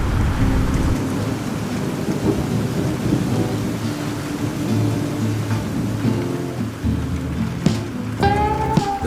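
Heavy rain pours steadily on surfaces during a thunderstorm, with continuous hiss and rolling thunder rumbling underneath, and a few brighter tonal sounds rising near the end.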